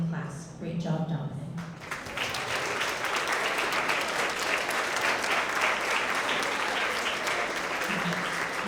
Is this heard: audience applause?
yes